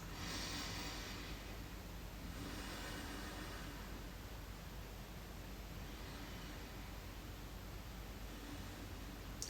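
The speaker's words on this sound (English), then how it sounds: "focusing on the breath in and out through the nose" Slow breathing in and out through the nose, a soft, steady airy hiss with gentle swells of inhalation, faint and close, with no talking.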